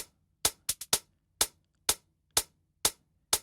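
Sparse 909 drum machine hits, short snappy percussive strikes in a loose pattern with a quick double hit early, dry and close with silence between.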